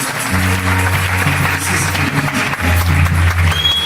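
A church congregation applauds loudly and steadily throughout, mixed with sustained musical tones.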